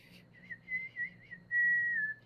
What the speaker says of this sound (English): Nice whistling.